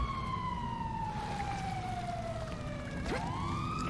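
A police siren in the video game GTA 5 wails steadily throughout, its pitch sliding slowly downward before swooping back up near the end, loud and continuous over a dense rumbling game background.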